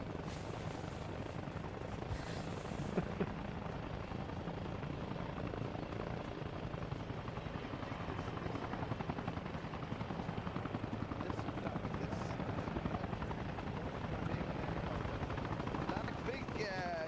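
Giant marine helicopter in Arma Reforger, the rotor thudding in a continuous rhythmic drone at moderate level while people talk over it.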